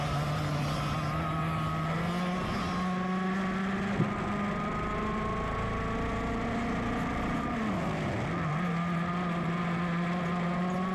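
100cc two-stroke air-cooled single-speed racing karts at Sonoma, engines droning loudly with rising and dipping whines as they pass, several buzzing together continuously.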